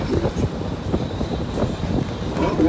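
A train rolls along the rails of the Georgetown Loop near the Hellgate High Bridge. A steady rumble carries irregular clanks and wheel thumps throughout, heard close and alone.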